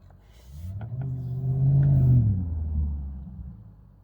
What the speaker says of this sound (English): some people drive a little too fast around here